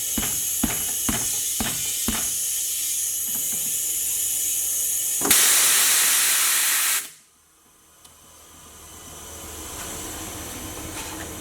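Compressed air hisses loudly in one steady burst of about two seconds from an air chuck inflating a regular tire on a 17-inch Jegs SSR Spike front rim, after a few sharp clicks, then cuts off to near quiet.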